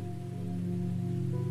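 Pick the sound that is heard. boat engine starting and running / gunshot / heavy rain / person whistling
heavy rain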